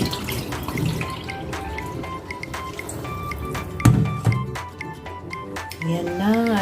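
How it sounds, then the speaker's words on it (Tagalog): Water drains and drips from boiled chicken wings, splashing and trickling in uneven spurts close by, while a person talks over it. "alisin na natin yung tubig"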